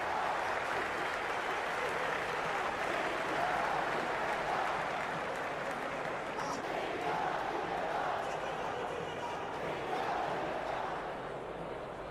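A stadium crowd at an India vs South Africa cricket match in Ranchi, in the Cricket 26 video game, cheers and applauds in a steady, dense roar that holds throughout with a slight swell midway.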